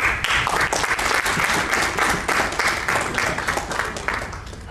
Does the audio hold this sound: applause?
yes